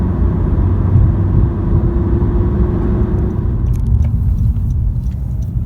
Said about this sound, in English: In terms of torque, fourth gear pulls up up to 120 really nicely.